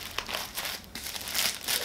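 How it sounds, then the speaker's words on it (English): Tissue paper slides and crinkles continuously during the unboxing of a Chanel 20C bag, a close, dry rustling that rises and falls in bursts with no voices. "let me slide the tissue paper off"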